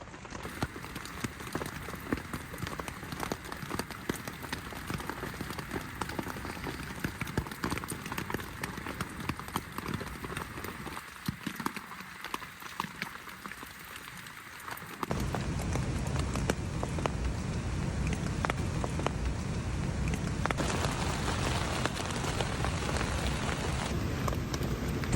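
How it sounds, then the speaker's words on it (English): Heavy rain pouring on a mountain campsite in the Pacific Northwest, a dense continuous patter on a surface that grows louder and fuller partway through. "Rain doesn't seem to be letting up."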